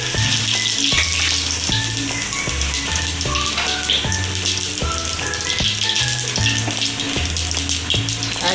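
Cinnamon and cloves sizzle steadily in hot oil in a pan, a loud, continuous crackling fry with light stirring taps running throughout.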